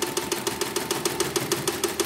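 A CNY embroidery machine runs under test after servicing, hammering out a fast, steady mechanical rhythm of evenly spaced needle strikes over a constant motor hum, close and alone.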